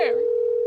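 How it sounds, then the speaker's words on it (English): A phone call rings out on the line: one steady, clear electronic tone, close and fairly loud, held unbroken for under a second. "Okay, here we go. Calling Terry Porter, TP for 3."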